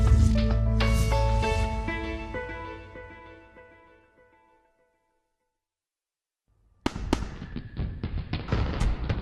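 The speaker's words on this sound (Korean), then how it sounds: "다양한 색으로 밤하늘을 아름답게 수놓는 불꽃놀이" Fireworks bursting in a night sky: ringing crackles and booms fade out into near silence for a couple of seconds, then a sharp new burst of loud crackling explosions follows.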